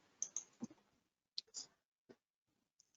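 Computer mouse clicks while operating structural engineering software, a few sharp, quiet clicks spaced irregularly over near-silence.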